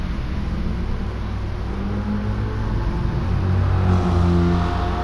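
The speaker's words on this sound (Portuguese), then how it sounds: "Ó, o V8 estralando" Chevrolet Corvette C7 Gr.4 with a 6.2-litre small-block V8 and a six-speed sequential gearbox, racing at Nürburgring GP in GT Sport, a loud continuous engine roar that rises toward the end, with crackling over the drone.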